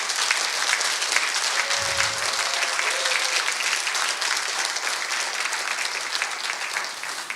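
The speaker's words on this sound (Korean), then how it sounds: "다시 한번 큰 박수 부탁드리겠습니다." An audience at an academic conference opening ceremony after a keynote lecture gives sustained, dense applause that fills the whole stretch at an even level, with many hands clapping and no break.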